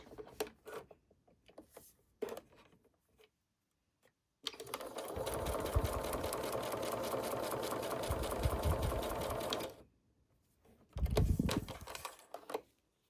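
Sewing machine stitching a folded quilt block: a few short whirring bursts, then a steady mechanical run of about five seconds, then another brief burst, close and moderately quiet.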